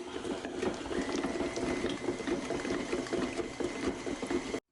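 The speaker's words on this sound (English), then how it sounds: "I'm mixing together butter and cream cheese with the paddle attachment on my KitchenAid until it's smooth and creamy" A KitchenAid stand mixer with the paddle attachment beating butter and cream cheese for a glaze, a steady whirring motor hum with soft rhythmic slapping, moderately quiet and continuous, with no talk.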